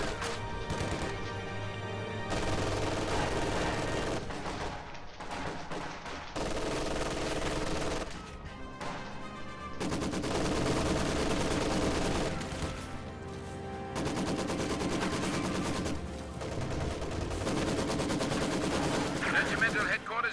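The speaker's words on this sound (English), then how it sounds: "Machine gun fire going back and forth here in the middle." Machine gun fire in the Company of Heroes 2 battle game rattles in repeated bursts trading back and forth, mixed with heavier gunshots and impacts, with a commentator talking over the dense, loud battle noise.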